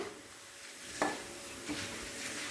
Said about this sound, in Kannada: ಅದೇ ಎಣ್ಣೆಗೆ ಒಂದು ಹಿಡಿಯಷ್ಟು ಅವಲಕ್ಕಿ ಹಾಕ್ತಾಯಿದ್ದೀನಿ ಅದು ಕೂಡಲೇ ಉಬ್ಬಿ ಮೇಲೆ ಬರುತ್ತೆ